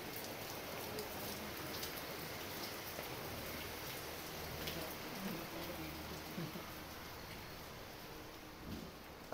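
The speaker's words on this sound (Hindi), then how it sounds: "बहुत तेज़ बारिश हो रही है इस वक्त" Heavy rain pouring down steadily, a dense unbroken hiss of drops on surfaces that stays constant and fairly close throughout, with no voices.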